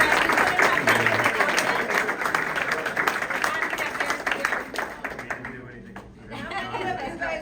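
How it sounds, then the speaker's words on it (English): Crowd applause at a US citizenship ceremony, a dense, steady clapping that holds for several seconds, thins briefly near the end, then picks up again, with some chatter and light laughter mixed in. "They deserve a special round of applause for taking this journey with you"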